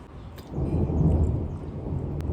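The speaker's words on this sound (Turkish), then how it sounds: "Bu arada şimşek çarptı." Thunder rumbles low and heavy through a storm, swelling and rolling for a couple of seconds, fairly loud with no talking.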